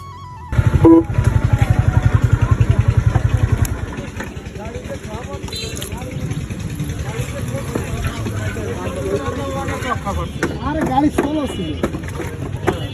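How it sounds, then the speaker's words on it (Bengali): A motorcycle engine chugs loudly and close at first, then drops to a lower idle as the bike is turned around on a road, with people talking over the engine throughout. "এখানে আমরা বাইকটা ঘুরাই"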